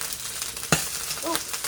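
Food frying in a pan as it is flipped, a steady soft sizzle with one sharp knock from the turn midway, brief and close.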